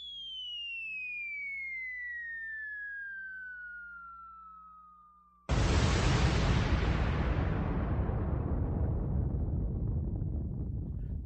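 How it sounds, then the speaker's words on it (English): Bomb drop sound effect: a descending whistle glides down for several seconds, then a sudden loud explosion bursts in and slowly decays into a rumbling roar. "I'm giving you another bomb drop"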